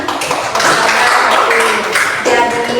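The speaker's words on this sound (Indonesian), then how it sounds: "beri tepuk tangan" Classroom students clap together in response to the teacher, a steady continuous burst of applause from a nearby group filling the whole moment.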